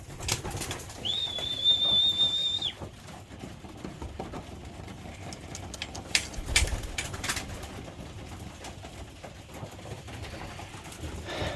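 Racing pigeons at a loft coo softly and flutter in a quiet ambient setting, with a brief high whistle early on and occasional wing flaps and shuffling.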